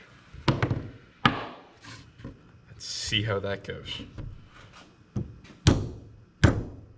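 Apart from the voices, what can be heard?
hammer knocking out suspension bushings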